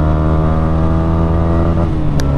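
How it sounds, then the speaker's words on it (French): An R125 125cc sport motorcycle engine revs loudly while being ridden, a steady, close, buzzing drone with strong harmonics that stays full throughout and dips slightly in pitch near the end. "le bruit, je me souvenais pas qu'elle gueule autant."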